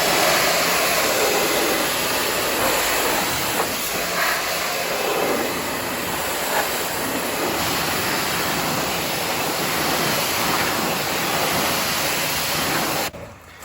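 Water spray rinsing a Ford Mustang Boss 302 during a wash, a steady broadband hiss that runs unbroken at close range for the whole stretch, with no talking.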